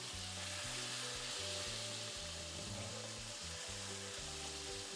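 Chicken sandwich frying in hot grease at 350 degrees Fahrenheit, a steady crackling sizzle with scattered pops, close and continuous with no talk.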